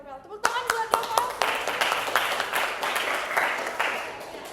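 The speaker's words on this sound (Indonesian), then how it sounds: "Tepuk tangan buat Rafael." A small audience claps for a presenter after a talk, with a few distinct early claps swelling into steady, moderately loud applause that continues throughout, with a voice heard briefly at the start.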